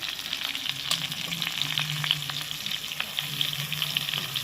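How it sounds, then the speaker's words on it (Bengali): Eggplant pieces fry with potatoes in hot oil for a fish curry, producing a dense, continuous sizzle with fine crackles and occasional soft stirring scrapes, close and steady with no talk. "আর দিয়ে দিচ্ছি বেগুনটা আলুটা এরকম ভাজার পরে বেগুনটা অ্যাড করতে হবে"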